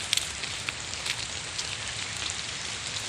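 Steady rain falls on surfaces outdoors, a dense continuous hiss with scattered close drips and taps.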